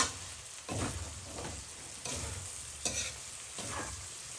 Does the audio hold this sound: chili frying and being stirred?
yes